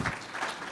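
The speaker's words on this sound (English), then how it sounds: "a big round of applause" Short burst of applause from a crowd, steady clapping filling the whole moment without any voices.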